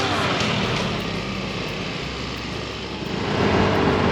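Three motorbikes buzz steadily nearby on an Indonesian island under constant wind and road noise, growing a little louder toward the end.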